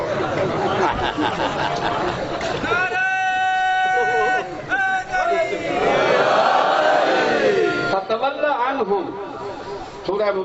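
A religious gathering's crowd chants a slogan for Mola Ali, many voices shouting together in loud bursts that rise and fall over several seconds, with stretches of babble and a single voice between.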